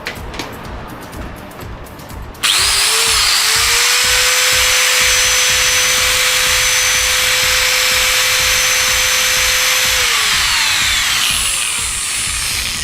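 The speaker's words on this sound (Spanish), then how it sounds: "Vamos a probar ahora una amoladora." A brushed angle grinder motor under an armature test switches on sharply after a short stretch of background noise, spins up, and holds a loud, steady high-pitched whine for about ten seconds before beginning to wind down.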